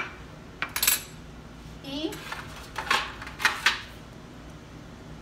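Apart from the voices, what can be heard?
whisking egg yolk in a bowl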